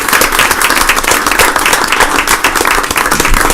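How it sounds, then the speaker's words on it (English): A loud audience at a school board meeting gives third grade students a sustained round of applause, with dense clapping throughout. "Big round of applause for us."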